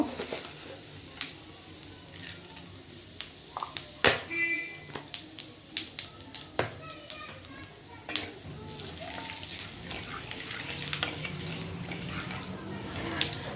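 Cumin seeds sizzle in hot oil in a home kitchen, a soft continuous crackle broken by sharp pops and clinks of a spoon, with a voice talking over it.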